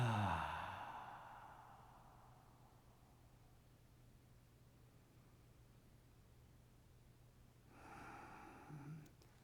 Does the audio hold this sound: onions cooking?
no